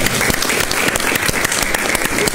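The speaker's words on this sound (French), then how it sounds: "On les applaudit quand même." An audience applauds prize candidates at a live midday event, with close, loud, individual hand claps standing out over a steady crowd clapping.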